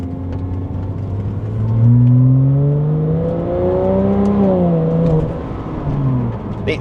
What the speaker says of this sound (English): I'm going to downshift. Take this corner in second gear.